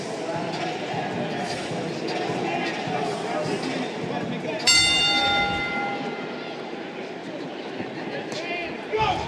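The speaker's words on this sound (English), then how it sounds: "The bell in round 7." A boxing ring bell sounds at round 7 of a super lightweight bout in a busy arena, a single bright metallic clang ringing out over crowd noise and commentary voices, then fading.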